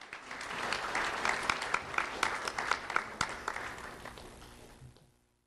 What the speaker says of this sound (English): Let's have a round of applause for Giovanna Bocchino.